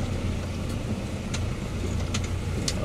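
A Valtra M120e tractor crawling in first gear over bumpy ground gives a steady, loud low engine drone with a few brief rattles and knocks on top.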